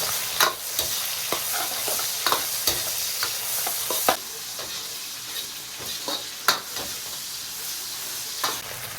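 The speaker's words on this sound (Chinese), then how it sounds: "来一勺豆瓣酱，一勺火锅底料，炒出红油" Doubanjiang bean paste and hot pot base are stir-fried in oil in a wok for a Sichuan dish, giving a loud steady sizzle with repeated scraping strokes of the spatula, close by and without speech.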